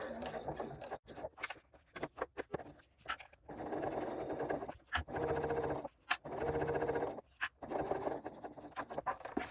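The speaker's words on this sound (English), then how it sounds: "I'm going to backstitch in the very edge within the seam allowance and then pivot, just sew across the top." A sewing machine stitches a bucket bag seam, running in several short bursts separated by brief pauses as the seam is backstitched, pivoted and sewn across the top.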